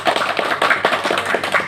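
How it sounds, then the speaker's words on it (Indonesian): A classroom group audience claps hands together in a steady burst of dense, overlapping claps, fairly close and loud, lasting the whole moment without talk. "Tepuk tangan dong."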